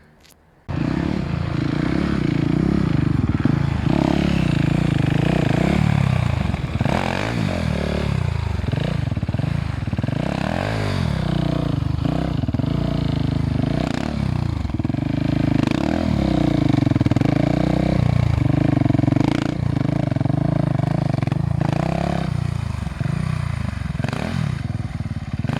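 A 2021 KTM 690 Enduro R single-cylinder motorcycle engine runs loud and close for nearly the whole stretch, its steady throbbing note rising and falling as the rider rolls the throttle on and off.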